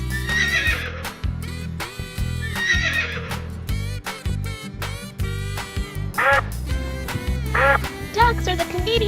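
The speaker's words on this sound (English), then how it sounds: "when they neigh, watch out! A loud neigh can mean the horse is super excited" Horse neighs and whinnies repeat loudly and close up over a low rumbling bed, with bursts of clip-clopping hooves between the calls on a farm.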